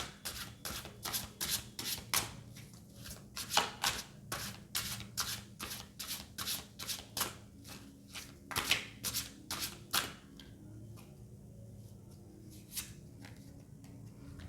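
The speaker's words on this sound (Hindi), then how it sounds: "जब तक मैं कार्ड शफल कर रही हूँ" Tarot cards shuffled by hand in quick, repeated riffling bursts, close and fairly soft, with a steady rhythmic rhythm and brief pauses toward the end, no talking over it.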